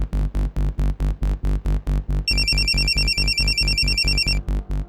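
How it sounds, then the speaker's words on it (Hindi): A phone rings with a fast, loud electronic pulsing tone in steady repeated bursts, joined partway through by a higher warbling melody, with no voices. "फोन लगाइए अपने बेटे को।"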